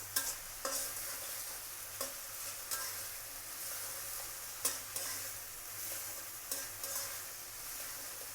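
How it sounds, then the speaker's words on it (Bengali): Potatoes with small shrimp stir-fried in a pan, a soft steady sizzle broken by periodic spoon scrapes and taps, fairly quiet and close. "তো এই তো আমি আলুটা এইভাবে কষিয়ে নেবো চিংড়ি মাছ"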